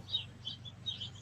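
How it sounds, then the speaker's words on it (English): Small birds chirp and tweet in short, high, repeated bursts at moderate distance, about three calls in just over a second, over a steady low hum. "fucking birds are chirping up a storm."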